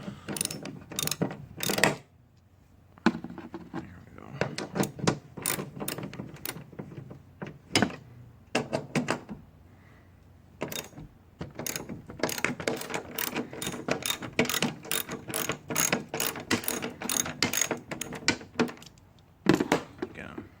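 A ratchet loosens 13mm bolts on a bracket of a GMC Sierra pickup, giving bursts of rapid metallic clicking close up, with pauses between sets of strokes and a voice talking at times.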